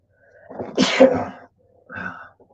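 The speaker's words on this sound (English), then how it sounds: "I'm gonna have to sneeze here. I feel it coming." A single loud sneeze with a drawn-in breath before it, followed by a softer exhale or sniff, close to the listener.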